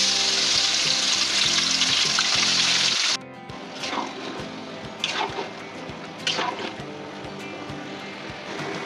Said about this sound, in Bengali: আমরা মাংসটা দিয়ে দেবো।